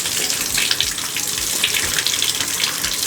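Water runs from a bathtub tap onto a mat to wet it, a loud, continuous close splashing rush that holds steady throughout with no voices.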